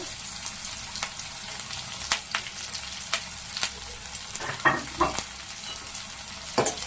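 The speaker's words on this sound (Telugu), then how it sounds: "ఈ ఆనియన్స్ అన్నది మంచిగా గోల్డ్ కలర్లో వచ్చేంత వరకు మనం ఇది కూడా ఫ్రై చేసుకుందాము" Thinly sliced onions and curry leaves fry in oil for a potato fry, making a steady close sizzle punctuated by sharp clicks of a spoon stirring the pan, with no talk.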